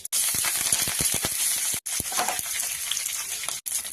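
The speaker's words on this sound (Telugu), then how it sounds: "తీసుకున్నాక లైట్గా తిరగబోసేస్తాను. కొద్దిగా నూనె, ఉద్దిపప్పు ఆవాలు," Mustard seeds and urad dal temper in a little hot oil, giving a steady hiss dense with sharp popping crackles, briefly cut off twice.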